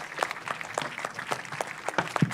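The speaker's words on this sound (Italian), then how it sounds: "facciamo un applauso un po' più convinto" Scattered, fairly faint clapping from an audience at an archaeology festival event, with sparse individual claps rather than a full ovation.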